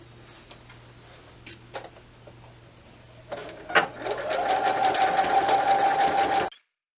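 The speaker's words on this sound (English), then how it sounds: "I'm going to sew all the way around" After a few soft taps and clicks, a sewing machine starts up and stitches steadily around a seam for about three seconds, a close, rhythmic whir that stops abruptly.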